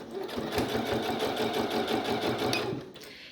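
Sewing machine stitching a seam again after the presser foot is repositioned, a close, rapid, even mechanical chatter running for about three seconds, then stopping.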